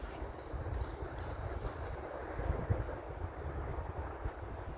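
A bird gives a short series of high, repeated whistling notes over steady wind noise and a low outdoor rumble in a forest on a dull day.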